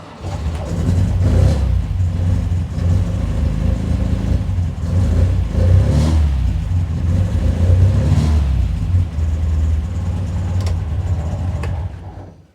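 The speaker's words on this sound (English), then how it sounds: "The first one and the most important one is engine noise." A car engine revs with a steady, loud low rumble and mid-range drone, holding for about twelve seconds before cutting off abruptly, with no voices.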